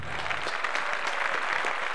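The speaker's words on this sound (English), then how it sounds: "Please clap, we did it." Steady audience applause at a comedy show, a dense, continuous patter of many hands throughout, fairly loud with no pauses.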